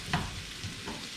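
Shrimp pad thai with green onion being stir-fried over high heat, a brief burst of sizzling with a couple of soft stirring scrapes against the pan, moderately close and no voices.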